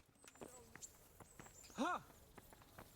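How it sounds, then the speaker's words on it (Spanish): Horse hooves in the video game Kingdom Come Deliverance, a few light clip-clop steps in an irregular walking rhythm, faint beneath game sounds and a brief rising tone. "Está mi caballo ahí."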